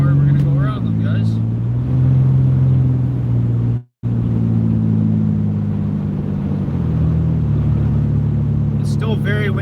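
A car engine hums low and steady as the vehicle rolls along slowly at about 10 km/h on a windy day, with a brief cut of silence midway and a few faint voices near the end.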